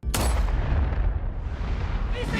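A single sharp pistol shot cracks out loudly, followed by a booming, rumbling echo that slowly fades.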